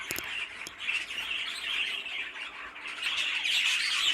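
Fife canaries call from an aviary, a busy mix of squawks and bright chirps over a continuous twittering background, with a few sharper calls standing out near the start and the chorus swelling again toward the end.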